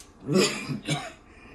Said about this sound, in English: Excuse me, I have a little cough.